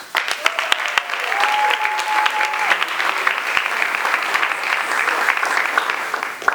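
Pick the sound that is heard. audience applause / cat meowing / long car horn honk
audience applause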